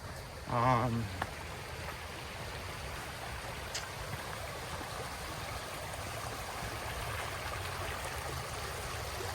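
Steady broadband rush of creek water flowing over rocks, constant and moderately close throughout, with a brief louder splash or knock near the start.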